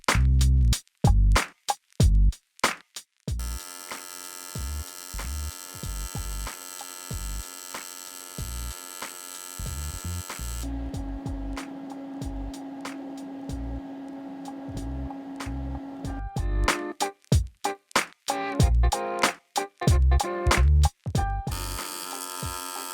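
A GYS Protig 201 AC/DC welder runs TIG on 2 mm sheet at 90 A, giving a steady electrical buzz. Bursts of sharp crackling clicks and brief silent gaps break it up at the start and end.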